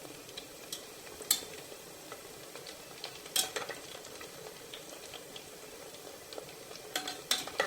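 Oriental pastries cooking in a pan and being stirred now and then, a quiet steady sizzle broken by a few sharp clinks and scrapes of the utensil.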